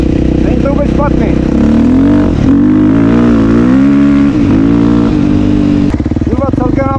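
A KTM SXF 450 four-stroke motocross bike with a 101 dB silencer revs loud and close, its engine note climbing and falling in repeated bursts while someone talks over it.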